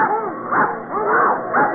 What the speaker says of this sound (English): Jojo, bark at him. Inspire him.